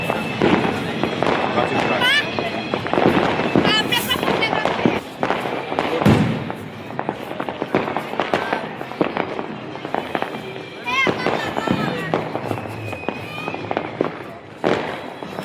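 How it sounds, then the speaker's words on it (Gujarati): Firecrackers bursting during the Uttarayan kite festival in Ahmedabad, sharp cracks and pops going off repeatedly at varying distances over a crowded outdoor scene, with people talking throughout. "જો પાછળ ફૂલ ફટાકડા ફૂટે અત્યારે."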